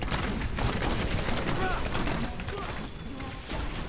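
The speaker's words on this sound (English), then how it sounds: "Grenades, grenades, grenades. Everyone loves grenades." Grenades exploding in Diablo 3 Reaper of Souls during a multiplayer Demon Hunter fight, a dense busy clatter of blasts and crackling impacts throughout, with a voice talking over the battle din.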